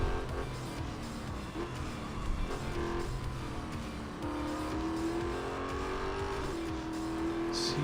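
Racing car engine from the Real Racing 3 mobile game, a steady loud drone with shifting engine pitch and brief tire squeals, running continuously with no speech.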